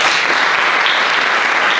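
Steady, dense applause from a conference audience at a Spanish talk series, sustained and loud throughout with no break.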